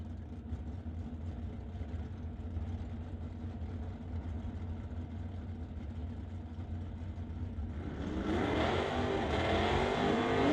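A Mustang Fox body and a 1970 Plymouth Barracuda idle with a low, steady rumble at a drag strip, then the engines surge into a loud rev near the end.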